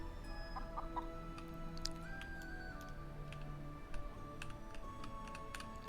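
Chickens clucking in the video game Star Equestrian, several short soft clucks scattered among ticking clicks and light game ambience, close and quiet, with no voices.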